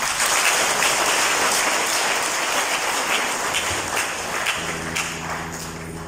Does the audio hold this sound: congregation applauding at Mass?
yes